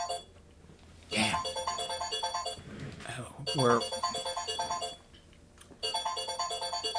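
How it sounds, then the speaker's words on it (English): A cell phone ringtone plays loudly and repeatedly as an electronic melodic pattern, nearby and steady across the moment, while someone speaks briefly over it. "that's my cell phone."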